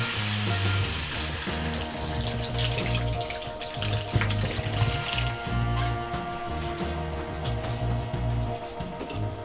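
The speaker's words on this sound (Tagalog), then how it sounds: "So ngayon po ay maglalagay na po tayo ng tubig para palambutin po natin itong" Water is poured into a hot pan of beef for mechado, a continuous sizzling rush and splash with a low steady hum beneath, close and moderately loud.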